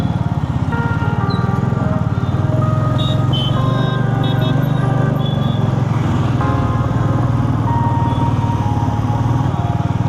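Heavy road traffic with many vehicles, heard as a loud, steady, close engine drone that continues without a break.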